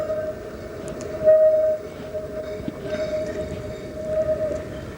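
A Berlin tram on route 86 creeps around the terminus loop at Alt Smirkovich, a steady low rumble with a sustained wheel squeal and a brief louder swell.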